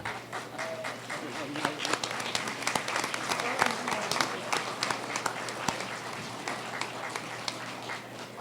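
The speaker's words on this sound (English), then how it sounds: "let's give your family and friends a round of applause here" Audience applause at a Kirtland Community College commencement in an auditorium, a steady wash of many hands clapping for family and friends, dense and sustained throughout with a low hum beneath.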